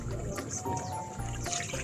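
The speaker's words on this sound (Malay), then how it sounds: "dah macam ni, pecah minyak, kita masuk air ya" Water pours into a pan of hot oil for a Malay fish curry (masak lemak ikan), a soft, close trickling and splashing that lasts under two seconds.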